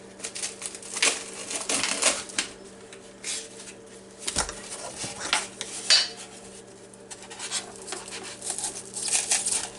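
Partly frozen stew beef being put into a crock pot, with clattering dish and utensil knocks, scraping and crinkling handling noises in irregular bursts, quiet kitchen, no talk.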